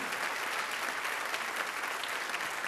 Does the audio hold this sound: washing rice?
no